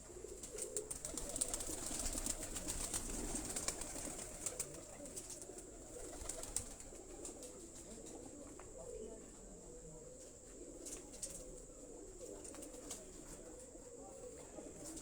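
Homing pigeons coo softly in a closed loft, a low murmuring chorus of many birds with faint chirps and rustles, fairly distant and steady throughout.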